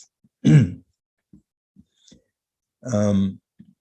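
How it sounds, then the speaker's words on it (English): Two separate bursts of throat clearing and coughing, close by, with a few faint clicks in the quiet between them. "I have this nagging cough that I can't get rid of"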